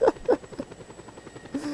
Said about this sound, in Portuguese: aí ele veio batendo o seu helicóptero